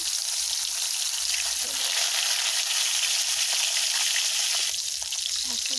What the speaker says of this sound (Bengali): এবার মাছটা দিয়ে দেবো কড়াতে